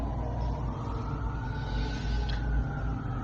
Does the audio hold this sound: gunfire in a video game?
no